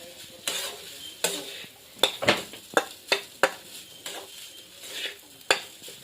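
A utensil stirs and scrapes cooked rice mixed with oil in a pot, irregular metallic knocks and scrapes over a soft sizzle, close up and without speech.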